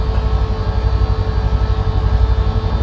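Helicopter flying in Microsoft Flight Simulator 2024, a loud, steady rotor and engine drone with a rhythmic low thumping that runs the whole time, with no one talking.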